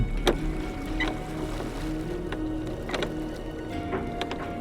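Lifeboat rowed by two crew members in a Titanic survival game, with rhythmic creaking and clunking of oars in their locks repeating at a steady pace over a low ambient bed.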